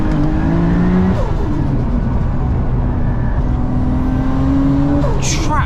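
A 700 bhp Nissan R33 Skyline GT-R accelerates hard on boost, a loud in-car engine drone with climbing pitch through gears and a turbo whoosh near the end; a voice talks over it.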